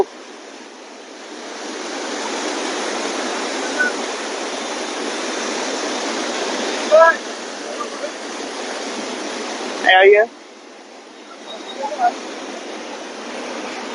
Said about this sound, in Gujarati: કેટલા પુષ્કળ પ્રમાણમાં પાણી છે તે આવી રહ્યું છે તો ડેમના દરવાજા ખુલ્યા હતા